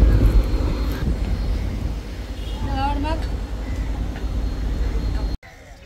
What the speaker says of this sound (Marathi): ही पॉवरफुल इंजिन आहे